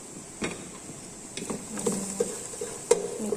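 A spoon scrapes and clinks in a pan while curry masala mix is stirred, giving a few soft, irregular knocks over a faint sizzling background.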